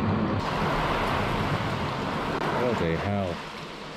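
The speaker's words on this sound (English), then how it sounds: "it's just torrential rain constantly" Heavy torrential rain pours down outside a garage during a storm, a dense, steady roar close by, with someone speaking briefly over it near the end.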